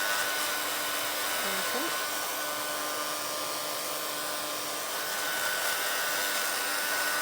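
A hair dryer blows steadily on a fresh second coat of paint on a vintage altered book cover, a loud continuous whooshing hum held close throughout, with a brief spoken word over it.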